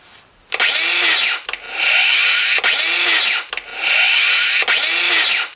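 A Bosch GWS-18V-125-SC cordless angle grinder spins up gently with its soft start, then whines loudly and steadily; it runs three times in a row, each run separated by a brief stop, close and with no voices.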